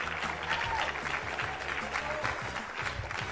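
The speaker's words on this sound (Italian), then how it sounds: "facciamo un bel applauso di incoraggiamento" An audience at a student festival quiz show gives a contestant encouraging applause, a steady, dense round of clapping that carries on for several seconds, with faint voices mixed in.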